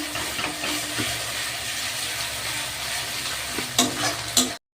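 Ginger and spices frying for chicken kosa, with a steady close sizzle and scraping stirs throughout and a few sharper clinks of the spoon near the end.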